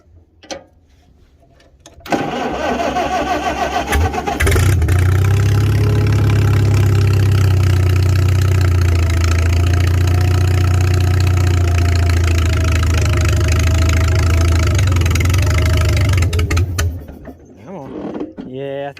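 A 1955 Farmall 300 RC tractor engine, run after sitting for 14 years, starts up and holds a loud, steady rumbling run for about fifteen seconds before cutting out.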